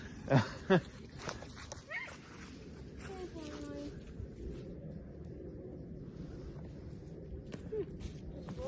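A dog moving around people outdoors gives a couple of short yips or barks near the start, then stays quiet under a steady low outdoor rumble with occasional speech.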